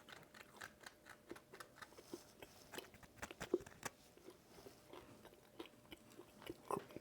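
Crusty homemade buttermilk bread, soft inside with a crunchy crust, being bitten and chewed up close: quiet, irregular crackly crunches and mouth sounds over several seconds, with no talking.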